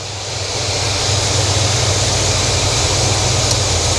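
A 6.0-liter LS V8 in a Yukon Denali fitted with an aggressive RV cam idles at a little over 800 RPM: a steady, loud low rumble with a constant broadband hiss on top, no one talking.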